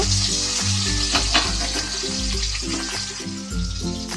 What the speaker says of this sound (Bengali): মাছগুলো আমি সব দিয়ে দিয়েছি একই সাথেই মাছগুলো ভেজে নেব